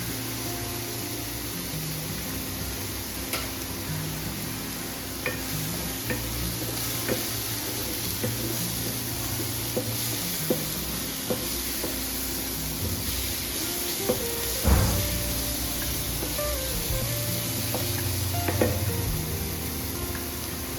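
Grated coconut, two spoonfuls, frying and being stirred in a pan for a quick aloo matar curry, with a steady soft sizzle and occasional faint scrapes and clinks throughout.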